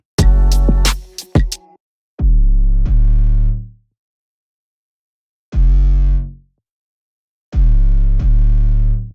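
Heavily distorted 808 bass notes, processed through FabFilter Saturn 2 multiband distortion, play in short bursts separated by silence, gritty and buzzing, with a crunchy saturated tone.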